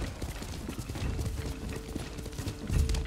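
A horse gallops in the video game Ghost of Tsushima, with quick, rhythmic hoofbeats that run continuously and close throughout.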